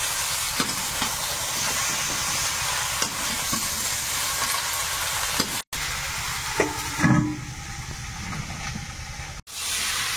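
Spice paste frying in a pan, a continuous close sizzle with occasional stirring scrapes and brief cutouts, no speech.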